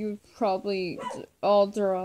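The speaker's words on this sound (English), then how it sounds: "Just please excuse the dog barking in the background." A dog barks repeatedly in the background, several sharp yips and barks in quick succession, mixed with a person talking over it.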